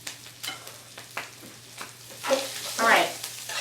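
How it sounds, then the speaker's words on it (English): Flour browning in a hot pan for paleo sausage gravy, with bursts of scraping and stirring over a soft sizzle that grows louder toward the end, heard close and with no speech. "so we browned our flour just a little bit, just kind of like cooks the floury taste out"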